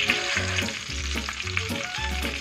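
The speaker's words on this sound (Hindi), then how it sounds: "ये मखाना है, ये भी हमें थोड़ा सा फ्राई करना है।" Makhana (fox nuts) frying in a pan with a steady crackling sizzle, broken by repeated low thumps of stirring at a regular rhythm, close and fairly loud with no voices.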